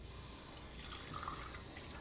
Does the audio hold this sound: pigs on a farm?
no